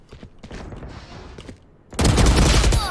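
Gunfire in the tactical shooter Valorant: a scatter of faint shots gives way to a loud, dense burst of rapid automatic fire near the end.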